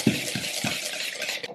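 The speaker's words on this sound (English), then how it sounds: "We're going in with the whisk. I just want it to be nice and smooth." Whisk stirring a mixture smooth in a bowl, a few quick rhythmic scraping strokes close up, soft and brief with no talk.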